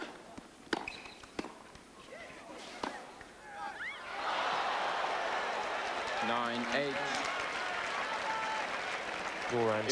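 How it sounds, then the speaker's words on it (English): A tennis crowd bursts into loud sustained applause and cheering after a won point in an Ivanisevic–Edberg tiebreak match, preceded by sharp ball strikes and squeaking shoes, with voices mixed into the roar. "You can probably tell that he won that point by that crowd's reaction."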